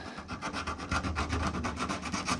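Hand sanding of body filler around the chopped rear window opening of a 1934 Ford Coupe makes a rapid, steady back-and-forth rasping, about five strokes per second, close and loud with no talking.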